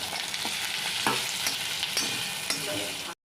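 Onions frying in a pan for a cashew gravy for malai kofta, with cashews being added: a steady close sizzle runs throughout, broken by several sharp scraping stirs and clinks of a spoon against the pan.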